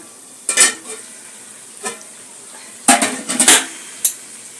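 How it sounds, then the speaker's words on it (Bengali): A lid lifted off a pot of amudi fish curry cooking over a low flame, with several light metallic clinks and scrapes in short bursts over a faint background hiss, close by, no talk. "ঢাকাটা খুলছি"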